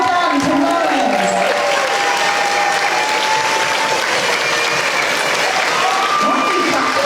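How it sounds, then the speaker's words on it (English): Audience clapping steadily and loudly at a 20-year anniversary celebration, dense applause sustained throughout with a few scattered voices and faint cheers mixed in. "Why are you clapping?"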